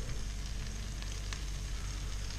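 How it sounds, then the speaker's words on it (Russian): A cheese sandwich sizzles and fries in a sandwich maker, a steady, close crackling hiss with faint pops that holds at an even, quiet level throughout, with no talking. "Пошел у нас активный процесс, вот, там шкварчит уже все"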